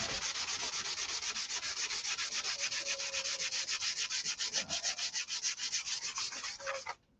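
Rapid, rhythmic sanding strokes rasp back and forth across freshly painted, powdering paint up close, a steady scratchy scrubbing that stops abruptly at the end.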